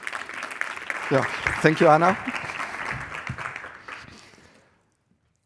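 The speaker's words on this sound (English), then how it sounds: "Let's welcome with a big round of applause the founder at Sverity" Audience applause welcomes the founder of a digital identity company to the stage at an EU agri-food conference session, a steady wash of clapping with a voice speaking over it before it fades out.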